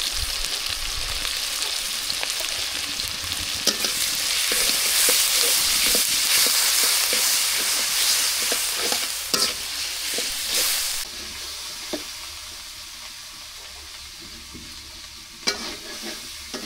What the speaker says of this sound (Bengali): শুটকিটা ভালো করে কষাই নিই।